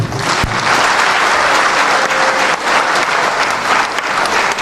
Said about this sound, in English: Round of applause for Raila Amolo Odinga